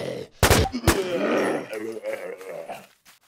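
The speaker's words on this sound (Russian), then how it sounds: "Я выстрелил." Two sharp, loud gunshots in quick succession near the start in the zombie video game Infestation: The New Z, followed by someone talking excitedly.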